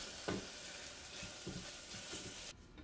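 Cubed ham sizzles and fries with sofrito in a pot for Puerto Rican red beans, a steady soft crackle with occasional stirring scrapes, fairly quiet, before the sound cuts away near the end.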